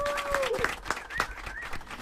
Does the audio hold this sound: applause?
yes